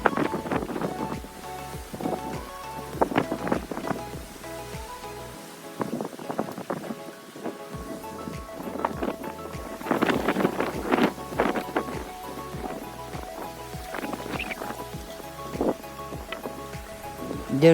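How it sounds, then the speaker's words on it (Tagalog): Heavy rain falls with gusting wind at night during Typhoon Paeng, a steady wash of downpour and wind noise with brief pulses of gusts and drips, no voices. "And when the night comes, the rain poured even more."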